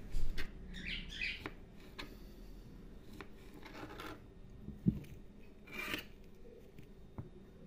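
Knife cutting zucchini into small squares on a board, a few soft, close chopping taps and scrapes spread out over quiet room noise.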